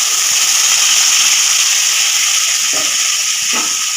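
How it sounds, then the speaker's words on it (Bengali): Tomato fries in a pan with green chilli, garlic and onion paste, a steady, loud, close hiss and sizzle throughout, with a few faint clinks of stirring. "টমেটোটা একটু ভাজা করে নেব।"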